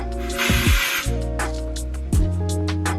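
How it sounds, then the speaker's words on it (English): A dry texture spray hisses onto curly hair in one sustained aerosol burst of about half a second, close up, amid soft handling noises and brief rustles. "I'm gonna recommend a dry texture spray."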